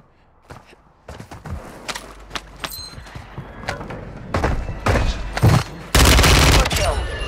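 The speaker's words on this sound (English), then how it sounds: "Friendly airstrike in the AO." A friendly airstrike in Call of Duty Resurgence lands as a rapid string of sharp impacts and bursts of gunfire, building into dense, loud blasts that rumble toward the end.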